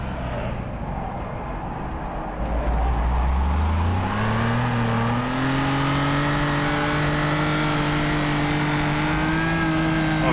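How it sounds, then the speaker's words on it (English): Historic race car on an Isle of Man road course, heard from the cockpit in first gear as its engine climbs in pitch while the wheels spin all the way up a hill, loud, close and rising steadily. "just wheel spin all the way up the hill"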